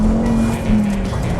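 Volvo C30 T5 engine pulling hard under acceleration, a steady loud drone from inside the cabin with a sustained tonal note running throughout the short burst.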